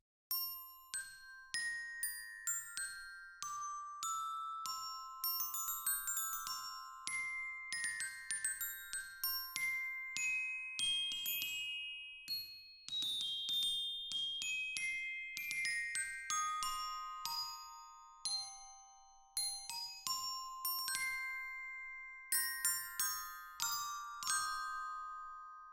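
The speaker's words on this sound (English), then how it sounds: "Then we have the Glockenspiel, which is down here and sounds like this." Glockenspiel from the CinePerc orchestral percussion library plays a bright, ringing melodic run of struck metal-bar notes, each with a clear attack and short sustain, close and clean with no talking.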